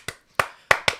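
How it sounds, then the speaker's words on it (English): Four sharp hand claps, close and loud, in an uneven rhythm with short gaps between them, alone without any talk. "Just make it clap."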